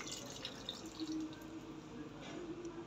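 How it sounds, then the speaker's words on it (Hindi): Water running and dripping, a soft continuous trickle with faint splashes heard close by at low level, steady throughout without any talk over it. "पानी निकल रहा है गाइस"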